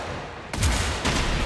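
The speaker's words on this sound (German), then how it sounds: "Ich mach nochmal kurz eine Salve." In the game Generation Zero, an assault rifle fires short bursts, sharp loud cracks in quick succession with brief gaps between volleys.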